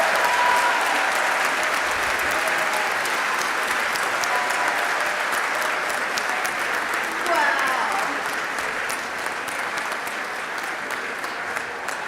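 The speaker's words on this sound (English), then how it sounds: "Now you can applaud." Texas House members in the chamber applauding after taking the oath of office, sustained crowd clapping that holds steady for several seconds before slowly easing, with scattered voices beneath.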